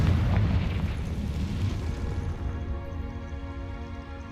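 A Confringo blasting spell explodes in the Hogwarts Legacy video game: a loud, sustained booming rumble that slowly fades and settles into a lingering tonal hum.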